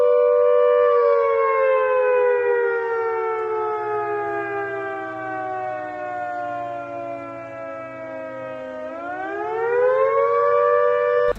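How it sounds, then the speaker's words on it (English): Loud township siren at Fox Glacier, New Zealand, much like a WWII air raid siren, a single long wail that slowly sinks in pitch, then rises again toward the end, alone and sustained. "there is a very loud noise that fills the township, and it's very reminiscent of a World War II siren, like an air raid siren"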